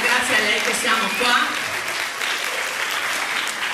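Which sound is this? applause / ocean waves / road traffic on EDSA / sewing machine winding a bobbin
applause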